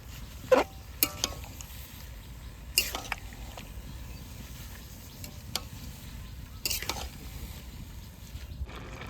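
A spoon scrapes and stirs pumpkin greens sprinkled with baking soda in a pan, with soft sizzling underneath and a few sharp clicks of utensil against metal at irregular moments.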